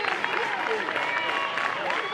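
A college softball crowd at an NCAA Missouri vs Alabama game cheers and claps steadily, a broad roar from the stands with scattered whistles and shouts, under a commentator's voice.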